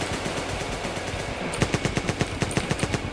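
Rapid automatic gunfire in GTA, a steady burst of sharp, evenly spaced shots that grows louder and punchier halfway through, with no talking over it.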